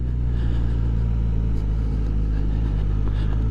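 The engine of a 2024 Suzuki GSX-S1000 GT motorcycle drones loud and steady under heavy wind rush while the bike accelerates on the road, with no voices.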